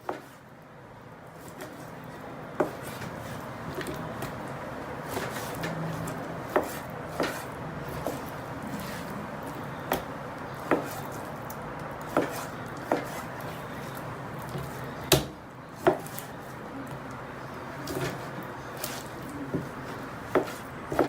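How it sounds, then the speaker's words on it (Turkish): A knife chopping through chicken breasts on a cutting board, sharp irregular knocks repeating every second or so over a quiet kitchen background. "Sıra geldi tavuğun doğramaya."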